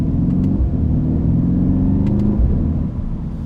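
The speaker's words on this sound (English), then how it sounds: "hopefully you guys can hear this exhaust" A Mercedes C63 AMG in Sport Plus mode gives a loud, deep exhaust rumble heard from inside the car, a steady low drone with a slight rise in pitch as it pulls.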